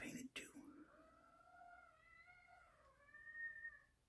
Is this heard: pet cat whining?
yes